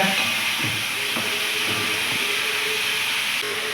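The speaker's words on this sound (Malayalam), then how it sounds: "ഇത് ഈ വെളിച്ചെണ്ണയിൽ കിടന്ന് നല്ല പോലെ വെന്ത് വേവട്ടെ" Snake gourd cooks in coconut oil in a pan for a pachadi, giving a steady, close, continuous hiss of sizzling oil that holds evenly from start to finish, with no talk.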